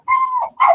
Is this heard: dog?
yes